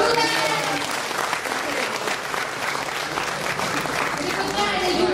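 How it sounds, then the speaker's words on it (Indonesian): Dense, steady applause from an audience at a university entrepreneurship workshop continues at an even level throughout, with some crowd voices mixed in. "Ya, tepuk tangan dulu."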